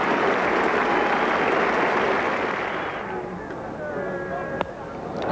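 A cricket crowd applauds a boundary four as a batsman reaches 200 in a 1970s match, a broad wash of clapping that fades after about three seconds into quieter ambience with a brief sharp knock near the end.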